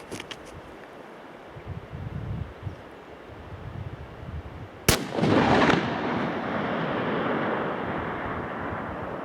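A single long-range .375 CEB rifle shot at 2050 yards cracks sharply midway, followed by a booming rumble and lingering wind noise, with faint gusty background before it.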